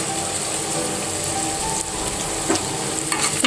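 Khichdi spices, including turmeric, red chili powder, homemade black masala and garam masala, fry in hot oil with a steady, close sizzle and crackle, stirred now and then, with no voices.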